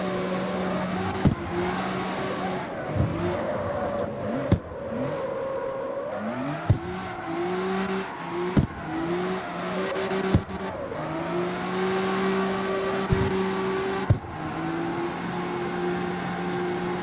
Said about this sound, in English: listening to the revs of the engine